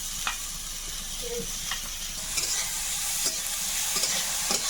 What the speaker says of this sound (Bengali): শুকনো চিংড়িটা এইভাবে আস্তে আস্তে একটুখানি ভেজে নেব